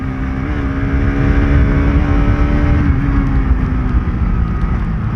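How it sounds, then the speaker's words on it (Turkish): A Bajaj Pulsar RS 200 motorcycle engine pulling in high gear on a hot day, a loud, steady drone with a slight rise in pitch as it accelerates, heard close from the rider's position with wind noise mixed in. "Yani motoru biraz hızlandırmam lazım yüksek viteste."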